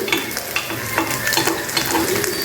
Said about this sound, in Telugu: ఇవి చక్కగా వేగిపోయినాయండి